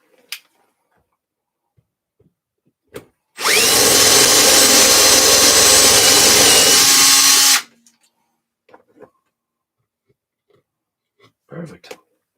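A power drill fitted with a drill bit runs in one loud, steady burst of about four seconds, framed by quiet moments with small handling clicks and knocks before and after.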